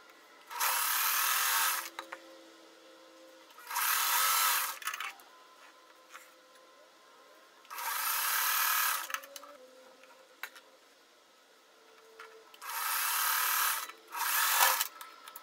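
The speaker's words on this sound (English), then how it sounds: "sew that together." A sewing machine stitches quilt block fabric pieces in four separate runs of one to two seconds each, with quiet gaps between them. Each run is a fairly loud, steady, fast whirring hum.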